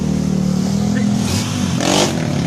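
A Honda Beat scooter fitted with a loud bucket-style exhaust revs nearby, its engine drone swelling into a sharper rasp near the end, with people talking over it.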